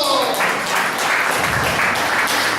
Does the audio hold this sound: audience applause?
yes